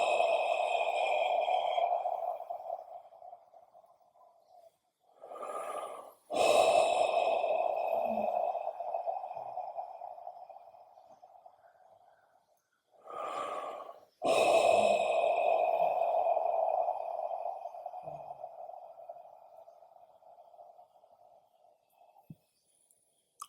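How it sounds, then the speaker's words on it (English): Three slow, deep breaths during a guided morning meditation at a retreat, each a long airy exhale with short inhales between, close and soft in a quiet room. "Take 3 deep breaths"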